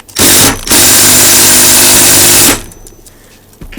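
A loud impact hammer gun rattles against Allen bolts on a rotator being stripped down, a brief burst, a short pause, then a sustained harsh rattling run that cuts off abruptly, very close and dominant.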